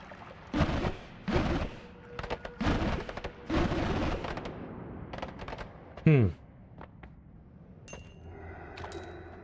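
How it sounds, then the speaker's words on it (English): Explosions in the video game Noita go off as a string of loud, crackling blasts, followed by a sharp whooshing sweep and a few faint ringing dings as things settle. "The explosion felt like it could have been a wand."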